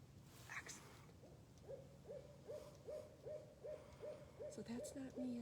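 A barred owl hoots outdoors in a long series of rising and falling calls, about ten notes in a steady rhythm, moderately distant and faint over background hiss.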